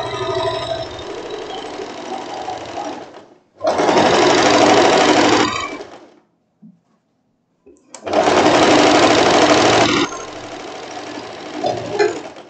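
A sewing machine runs in two long bursts, separated by a short pause with a faint click, as it closes the elastic-waisted skirt of a floral wrap dress.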